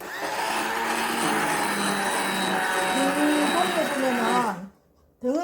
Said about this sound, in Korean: 이때 덩어리가 좀 있기 때문에 도깨비 방망이로